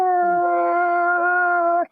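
A person imitates a wolf with one long, steady, tonal howl that holds for nearly two seconds and then cuts off abruptly.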